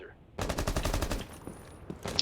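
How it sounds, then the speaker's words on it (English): A rapid burst of automatic gunfire from the video game Rainbow Six Siege in a competitive collegiate match, about a second of fast repeated shots followed by a couple of single cracks, close and loud. "No lucky wall bang this time from June."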